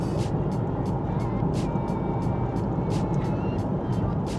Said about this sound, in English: Mostly the noise that comes from the tires is gonna be present in the cabin.